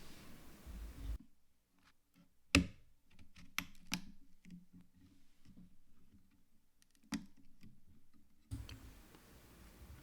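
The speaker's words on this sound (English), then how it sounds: "when you're securing your RAM, you want to hear it click into place" Sharp clicks of a RAM module snapping into the slot of a PC motherboard during a build, with one loud click and a few softer ticks and taps at close range in a quiet room.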